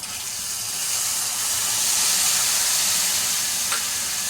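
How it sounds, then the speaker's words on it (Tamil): Lemon rice liquid is poured into a hot pan seasoned with asafoetida, giving a steady hiss and sizzle with a watery pouring texture that swells slightly midway. "இப்போ நம்ம இந்த லெமன் ரைஸ் தண்ணியை ஊற்றிக்கலாம்"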